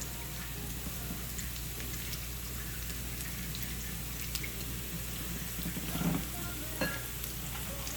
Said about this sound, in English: I want to stir this, make sure that it's nice and blended in, mixed in well with just the sauce.